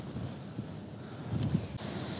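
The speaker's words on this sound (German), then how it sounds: "Oh, jetzt wird es richtig windig." Strong wind gusting across a sandy coast, a steady broadband roar with blown sand hissing through it, buffeting the microphone and rising sharply toward the end.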